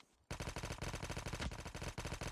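Rapid automatic gunfire in the Call of Duty Mobile battle royale game: a sudden, loud, continuous burst of closely spaced shots, starting abruptly after a brief quiet moment and running without pause to the end, with no talk over it.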